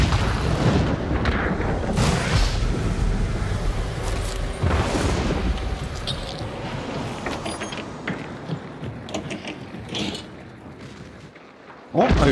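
Heavy booms and gunfire crash over a noisy, rumbling video game battle. Explosive bursts repeat through the clip, with one last sharp blast at the end as a barrel explodes after a gunshot.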